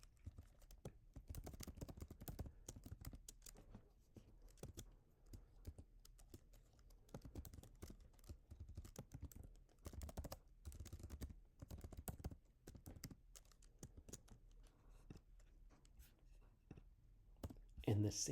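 Quick, irregular clicking of a computer keyboard while someone writes a contributing document for a project, the keystrokes close and fairly soft, with a person talking now and then over them.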